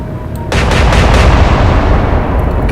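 Heavy naval guns fire in the Atlantic Fleet video game, a single loud booming salvo that rolls on with a long rumbling tail.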